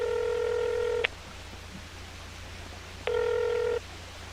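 Two bursts of electronic phone dialing tones in a roleplay video game, each a steady multi-tone beep with a silent gap between them, clear and close over a low background hum.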